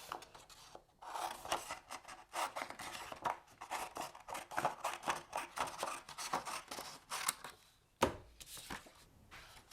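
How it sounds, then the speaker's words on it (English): Scissors cut through a sheet of card for a pop-up craft, a close run of rhythmic rasping snips, fairly quiet, ending with a sharper final cut. "We'll take a sheet of card, cut it in half."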